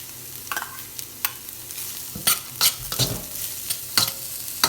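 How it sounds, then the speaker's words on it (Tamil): Onion and coconut pieces sauté in a pan as a spoon stirs and scrapes them in uneven bursts over a soft, continuous sizzle. The sound is close and moderately quiet, with no talking. "வெங்காயம் கொஞ்சம் வதங்கிட்டுது"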